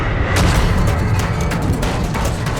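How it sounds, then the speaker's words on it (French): Laser blasts and explosions in a sci-fi space battle from the film Rebel Moon, a loud, dense barrage of booming impacts with sharp bursts scattered over a continuous rumbling roar. "je suis pas très fan de l'explosion des lasers, visuellement"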